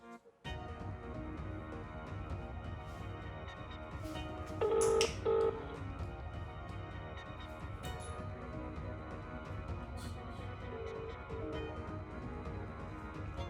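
Telephone dialing tones sound in a short burst of steady beeps around the middle, over a continuous background hum; no one speaks.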